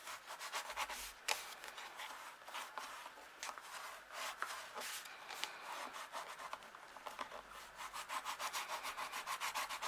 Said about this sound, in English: And then give it all a good burnish.